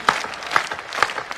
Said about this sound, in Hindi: मैंने मना भी नहीं किया है ताली बजाने को,